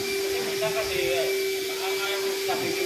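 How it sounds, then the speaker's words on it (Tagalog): A vacuum cleaner runs without a break while it cleans the interior of a car at a car wash. It makes a steady, close whine with a constant hiss throughout. "Ayan si kuya nagba-vacuum."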